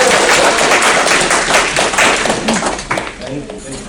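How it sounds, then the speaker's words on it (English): Audience clapping fills a real estate investors' meeting, a dense, fairly loud patter of many hands that tapers off toward the end, with voices mixed in. "So if there was ever a time to clap"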